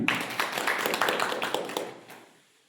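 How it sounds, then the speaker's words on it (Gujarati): Crowd at an Aam Aadmi Party political rally clapping together, a burst of many hands in brisk overlapping claps that rings out for about two seconds before dying away. "એમના માટે જોરદાર તાળી પાડીએ"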